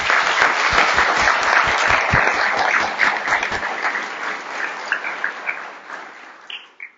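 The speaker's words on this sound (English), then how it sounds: "Can we give him a round of applause?" A room full of people at a city board meeting clap steadily after a Life Scout's introduction, dense and sustained, with the clapping thinning out toward the end.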